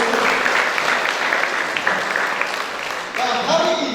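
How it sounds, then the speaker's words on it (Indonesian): A church congregation applauds during an Easter celebration, with steady, dense clapping filling the room that briefly swells again near the end, with voices murmuring underneath. "Tepuk tangan dulu buat kita dulu."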